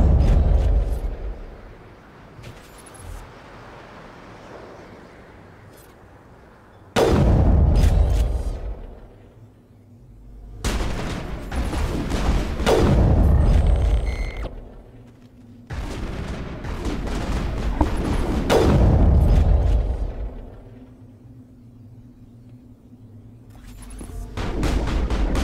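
Heavy gunfire and booming explosions from the Mass Effect video game, several loud bursts separated by quieter low rumbling stretches, with no talking.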